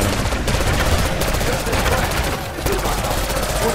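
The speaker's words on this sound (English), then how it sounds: "I'm gonna fire at them, guys" Rapid blaster gunfire in a Star Wars video game battle, dense continuous volleys of shots over a loud combat din, close and sustained with a brief dip midway.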